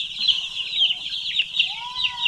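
Chicks chirp and peep in high, busy calls, close and fairly loud, while being vaccinated on a poultry farm, with no voices heard.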